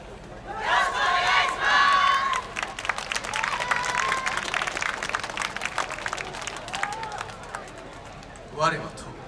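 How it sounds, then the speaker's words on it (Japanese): Crowd at a YOSAKOI Soran dance tournament in Chitose clapping along and cheering, dense rhythmic claps and shouts that swell early then thin, with a voice calling out near the end. "声援お手拍子よろしくお願いします。"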